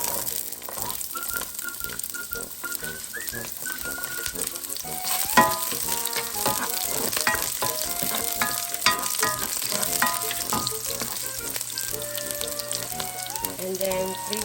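Half an onion frying in a pan for a Filipino squash and sardine stir-fry, a steady close sizzle and crackle running throughout with occasional stirring clinks and faint voices in the background.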